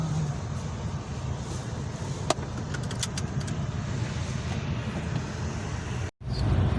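A Mazda RX-8 with a hot-start fault, running and driving: a steady, close in-cabin rumble of engine and road noise with a few light clicks and a brief cutout near the end.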